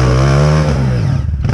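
A Honda Pop 230 motocross bike engine revs hard and close, holding a loud, steady high-pitched whine before dipping briefly and rising again, with no voices.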